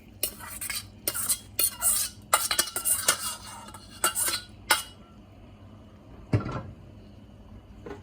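Pineapple sauce is stirred into cooked shrimp in a pan, with a spoon clinking and scraping against the metal in short, uneven bursts, followed by a single louder clatter after a brief quiet spell.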